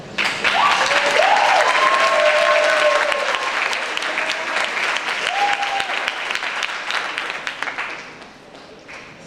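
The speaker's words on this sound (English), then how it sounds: "It's fine, you can applaud." Loud audience applause at the ISE graduation ceremony in 2018, dense and sustained as it swells early, with a voice briefly heard over it before the clapping thins and fades toward the end.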